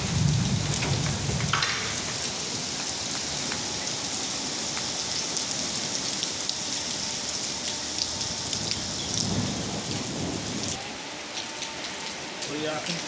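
Steady heavy rain pours and patters on surfaces in Sialkot during a thunderstorm, with low rumbling thunder swelling at moments and a voice briefly audible under the downpour.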